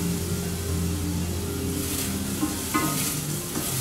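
Onions go into a hot pan and start sizzling, a steady moderate fry with a few stirring knocks, near and without voices.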